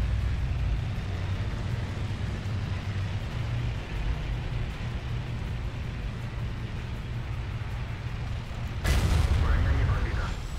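A tank cannon in World of Tanks fires a single heavy, booming shot late in the clip, breaking through a constant low engine rumble.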